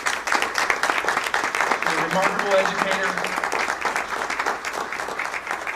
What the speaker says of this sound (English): If you all could join me in a round of applause for Carrie